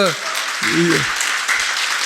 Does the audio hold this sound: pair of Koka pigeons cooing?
no